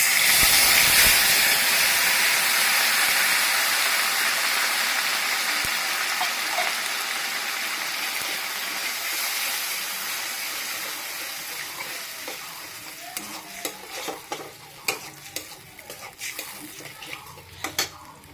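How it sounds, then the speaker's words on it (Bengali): Ginger, onion and dry chili paste hits hot tempered oil in a pan for rohu fish curry, letting out a loud, close sizzle that gradually settles, followed by clinking spoon-against-pan stirring. "এখানে আদা, পেঁয়াজ আর শুকনো লঙ্কা বাটা আছে, আমি এখন দিয়ে দিই।"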